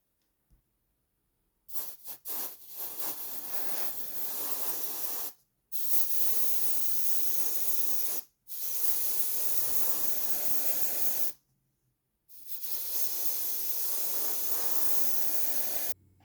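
An airbrush sprays thinned German camo black-brown model paint in four long, steady hissing bursts separated by brief silences, close and fairly loud.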